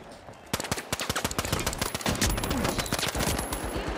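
Rapid gunfire in the video game The Finals, a loud, dense stream of automatic shots and bursts that starts abruptly and keeps crackling without pause.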